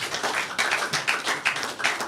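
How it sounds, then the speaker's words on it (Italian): A modest audience at a youth football awards ceremony claps steadily, quiet and somewhat distant, with an even rhythm of hand claps. "penso che ci stia l'applauso, bravi."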